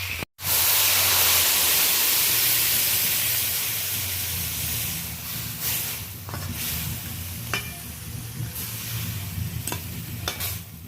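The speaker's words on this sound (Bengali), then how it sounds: "এবার আমি জল দিয়ে দেবো।" Water poured into a pan of fried red crabs sets off a sudden loud, close burst of sizzling and steam hiss, which slowly eases into steady bubbling and simmering with a few light clinks, and no one speaks.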